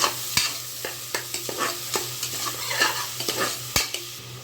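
Onions frying in a pan for mutton leg paaya soup, a close sizzle broken by frequent sharp stirring clicks and scrapes of a spatula, no talking.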